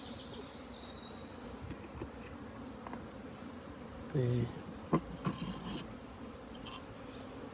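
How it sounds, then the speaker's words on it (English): Honey bees hum inside a beehive as a low, continuous buzz, with brief scraping and knocking handling noises and a quiet voice saying a word now and then. "of all the bees actually in the hive"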